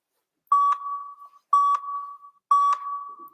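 Three electronic interval-timer beeps at a youth athletic training session, evenly spaced about a second apart, each a clear, sustained mid-pitched tone with a sharp onset, sounding alone with no talk.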